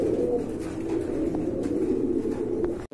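Pigeons in a seller's collection coo continuously, a steady, fairly close murmur of overlapping low calls with no talk over it.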